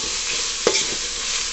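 Tomatoes frying in a pan, a steady hiss of sizzling oil with a single brief scrape or stir near the middle.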